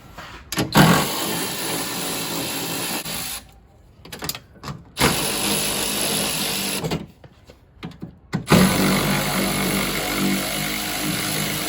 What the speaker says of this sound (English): take our 10mm socket and remove the 3 bolts that hold the motor on